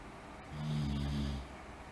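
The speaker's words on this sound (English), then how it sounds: "If you hear snoring, that's my dog." A dog snores in a single drawn-out rumbling breath, a low steady snore swelling and fading over about a second, quiet and nearby in a calm indoor room during a mat yoga class.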